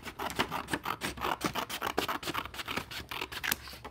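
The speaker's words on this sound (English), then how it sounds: "So I'm going to cut down that crease." Scissors snipping through paper along a folded crease while making a recycled bee bank craft, a quick run of close, crisp rasping cuts with no talking.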